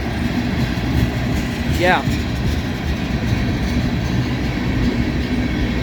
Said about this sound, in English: Oh, I think I already see the end of this train.